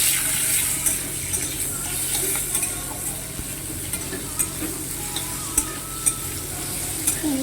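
Spices and chopped tomato frying in hot oil in a kadai, with chillies and bay leaf, for a vegetarian soya chunk dish; a steady close sizzle runs throughout, broken by repeated scraping taps of a spoon stirring against the pan.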